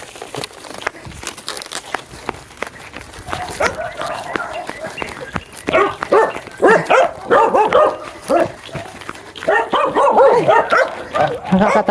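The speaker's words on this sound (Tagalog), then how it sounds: "Nakakatakit yung mga aso dito." Dogs bark and yip repeatedly in short bursts during a street delivery round selling turon, fairly close, mixed with people talking and some crinkling.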